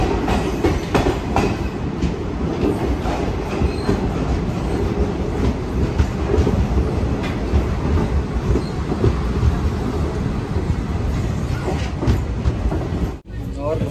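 Sewagram Express passenger train rolls steadily along the rails, with a loud continuous rumble and rattling wheel clatter filling the whole stretch and a brief dip near the end.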